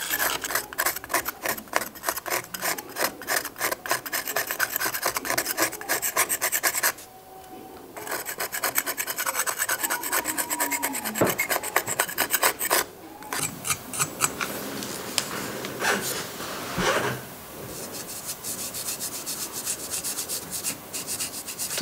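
Old paint layers being mechanically scraped from a ceiling with hand tools: continuous close, gritty rasping and rubbing strokes over about twenty seconds, with brief pauses between passes.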